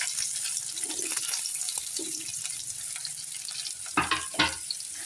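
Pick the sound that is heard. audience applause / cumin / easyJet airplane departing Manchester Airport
cumin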